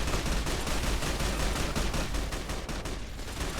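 Rapid automatic gunfire rattles continuously in a Fallout: The Frontier game battle, dense overlapping shots forming an unbroken burst for several seconds.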